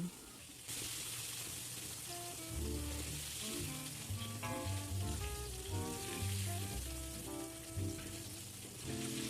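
Steady oily sizzle of batter-coated squid frying in oil, with background music playing over it, continuous throughout.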